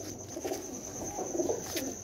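Soft, low coos of a parwazi pigeon repeating a few times against a faint background hum, fairly close, with no talking.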